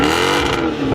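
A Mercedes C63 AMG V8 revs hard and close, a loud, rich engine roar with rising pitch that sustains for about a second before cutting off abruptly.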